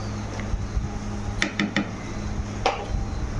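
A spoon stirs khichdi with Kashmiri red chilli powder in a cooking pot, giving a few quick metallic scrapes and clinks, grouped in a short cluster and then one more, over a steady low hum.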